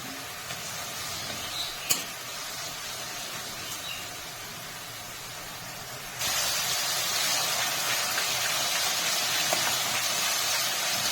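Ground cumin added to hot oil in a pan for an eggplant mash and stirred with a spatula, a steady close frying hiss that jumps suddenly louder and brighter midway and holds, with faint scrapes.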